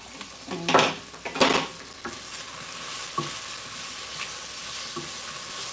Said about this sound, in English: So I'll add in some of the black garlic seasoning here. Just mix that through.